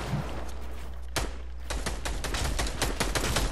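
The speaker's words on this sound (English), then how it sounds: "They're shooting at me, and I'm trying to chug up." Bursts of gunfire in the Fortnite battle royale game, a few scattered cracks followed by a fast rattling volley of close, loud shots over a low steady rumble.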